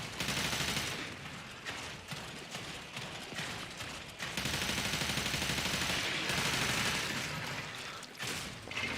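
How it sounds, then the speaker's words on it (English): Gunfire against enemies in the video game Warframe. Continuous loud, dense shooting and mechanical clatter run almost nonstop, with only brief dips in the barrage. "Now I'm shooting them."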